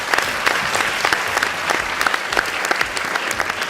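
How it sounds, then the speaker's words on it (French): An audience at a conference on animated painting applauds filmmaker Stéphanie with steady, crisp clapping from a moderately sized crowd, individual claps standing out in a continuous run. "On peut l'applaudir."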